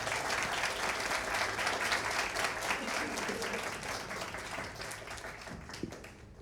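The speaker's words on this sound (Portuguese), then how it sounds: "Vamos recebê-lo com salva de palmas." An audience in a concert hall applauds to welcome a speaker before a chamber music concert, a sustained, moderately loud round of clapping that gradually softens, with a brief low murmur beneath.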